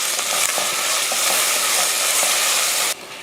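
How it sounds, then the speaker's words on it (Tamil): Ginger garlic paste with mint and coriander leaves sizzles and fries in a pot for one-pot rice, a loud continuous hiss broken by a few stirring scrapes, cutting off abruptly near the end. "இஞ்சி பூண்டு பேஸ்ட்டு சேர்த்து நல்லா வதக்கி விட்டுறலாம்"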